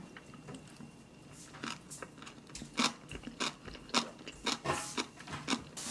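Boiled pork suyuk being chewed close up, a series of soft wet crunches and bites in an uneven rhythm that grows more distinct toward the end, with no talking.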